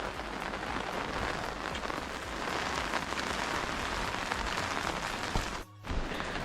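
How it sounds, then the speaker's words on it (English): Steady rain pours down in a dense, even hiss over the tea estates of Megur, Chikamagalur, with a brief dip near the end before resuming. "since it's raining, we're just waiting for the rain to reduce"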